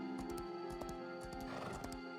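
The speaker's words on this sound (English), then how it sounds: "I'm gonna get on my horse and go." A horse in a video game is mounted and sets off, with steady, evenly spaced clip-clop hoofbeats playing over a faint, continuous game soundtrack.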